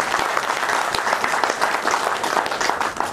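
Loud, sustained audience applause fills an award ceremony hall in Delhi, dense clapping holding steady throughout and easing slightly at the end.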